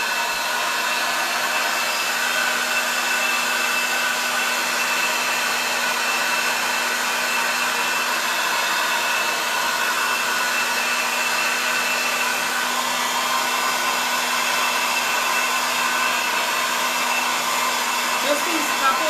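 A blow dryer on its cool setting drying paint on a board, producing a loud, constant whirring roar that runs unbroken and close throughout, with no voices.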